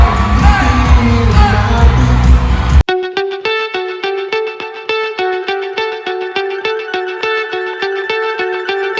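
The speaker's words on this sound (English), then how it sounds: "give them all a round of applause" A fashion show audience cheers and whoops with applause for about three seconds. The crowd noise then cuts off abruptly and loud music with a steady beat takes over.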